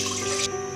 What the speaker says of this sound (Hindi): मैंने यहाँ पर ली है एक देगची, तकरीबन 2 लीटर इसमें मैं पानी डालूँगी।